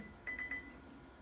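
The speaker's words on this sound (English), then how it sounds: "Do you hear the beeping sound here?" Three quick high-pitched electronic beeps in a row, faint against a quiet background hum.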